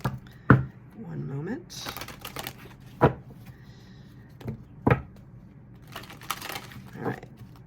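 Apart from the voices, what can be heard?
reshuffling tarot cards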